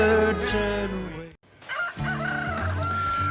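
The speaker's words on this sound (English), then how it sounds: "This cockerel used to cock-a-doodle-doo all day and night." A cockerel near allotments crows a loud, close cock-a-doodle-doo, breaks off in a brief silence, then launches into a second crow.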